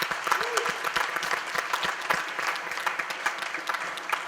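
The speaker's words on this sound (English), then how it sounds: "let's recognize our sponsors right now with a round of applause" A crowd applauds steadily, a dense wash of clapping that holds at an even level throughout.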